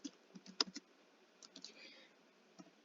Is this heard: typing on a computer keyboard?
yes